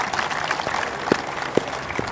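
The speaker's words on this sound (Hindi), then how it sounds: "जोरदार तालियों के साथ स्वागत कीजिए।" An audience at an Independence Day 2021 gathering of CRPF personnel applauds to welcome DIG R.B. Singh: a steady, moderate wash of clapping with a few sharper claps standing out, and no talking.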